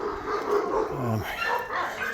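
Several dogs bark from somewhere nearby along an outdoor neighborhood walk, short yapping barks coming moderately faint over steady background ambience.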